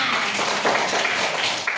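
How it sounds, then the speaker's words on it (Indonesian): Classmates clapping their hands during a school lesson: a short, dense patter of applause from a small group, steady and moderately near, with no voices over it. "Tepuk tangan buat Tete."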